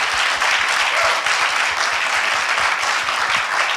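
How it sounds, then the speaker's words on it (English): A town hall audience at a Super Bowl social justice event gives sustained applause, a dense, even wash of many hands clapping at steady volume, with no talk over it. "if we could really just give a round of applause for these champions of change"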